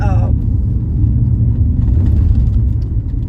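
A car drives along a rural back road with a continuous low engine and tyre rumble, fairly close and steady throughout.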